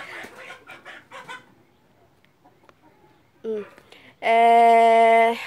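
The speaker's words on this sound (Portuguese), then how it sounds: "As galinhas ali estão... As galinhas." Chickens cluck in short bursts close to the microphone, followed by a louder sustained squawk or crow at the end, with quiet gaps between the calls.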